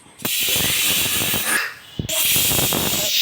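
A pressure cooker cooking green gram and pumpkin on a gas stove lets off a loud, close, continuous hiss of escaping steam, broken by one short pause before the hissing resumes just as strongly.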